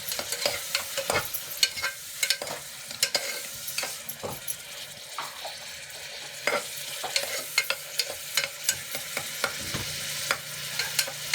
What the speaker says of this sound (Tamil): சேர்த்துட்டு நல்லா கிளறிக்கோங்க.